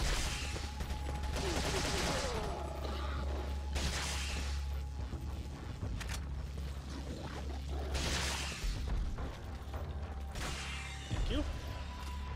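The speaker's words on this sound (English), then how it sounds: "Can you stop shooting at me?" Gunfire and combat from the video game Resident Evil 4, including a crossbowman, comes as repeated bursts of shots and crashes over steady game background noise, with someone talking at times.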